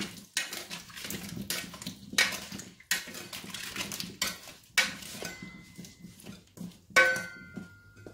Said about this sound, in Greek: Ανακατεύουμε καλά τις πατάτες.